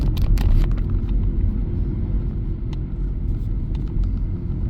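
Steady low road rumble of a car driving on a city road on a spring day, continuous and fairly loud throughout with a few brief higher clatters early on, no talking.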